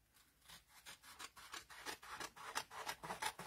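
Paper for a file-folder junk journal being trimmed, giving a steady run of short rasping cuts about three or four per second, close and fairly quiet, with no voices.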